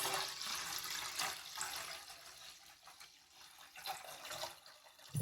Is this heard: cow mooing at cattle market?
no